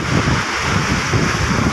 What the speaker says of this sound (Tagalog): Ayan guys, ito yung dagat.